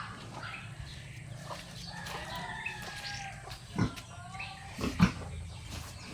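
Pet pigs on a backyard farm grunting and oinking in short bursts, with two louder close calls near the end over faint rural background noise.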